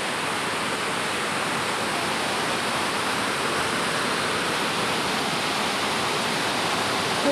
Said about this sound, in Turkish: Bu ikinci şelale. Çok güzel. Şuradan da ayrıyeten sular akıyor.